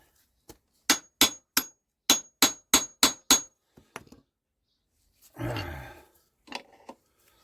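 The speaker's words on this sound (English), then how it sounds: "let me get my chisel on that again and see if we can get this valve chest open" A hammer striking a chisel to open the seized valve chest on a Douglas engine, about ten sharp metallic blows in a quick series, close and loud, then scraping and a few lighter knocks.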